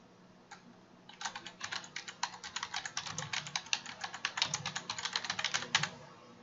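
Rapid typing on a computer keyboard, dense irregular key clicks running for about five seconds after a single early tap, close and clear with no voices.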